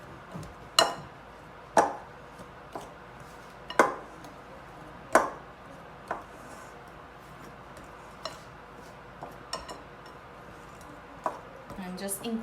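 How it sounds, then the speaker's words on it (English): A pastry cutter cutting butter into flour in a bowl for cheese scones, a series of sharp separate clinks against the bowl, irregularly spaced and fairly quiet over a faint background. "I'm just using a pastry cutter here and I'm like cutting it into the flour"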